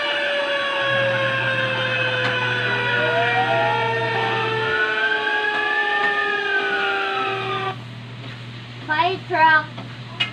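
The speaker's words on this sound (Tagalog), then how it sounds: "Fire truck" A fire truck siren wails loud and close, a rising and falling tone that sweeps up and down for several seconds, then shifts to a faster yelping pattern near the end, with a low engine drone underneath.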